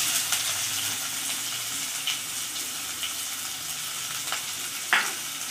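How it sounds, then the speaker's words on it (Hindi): Onions frying in hot oil in an Odia kitchen, a steady close sizzle with faint scraping and a few stirring clicks, no talk. "आम काटी रखि पियाज को पकई देबा।"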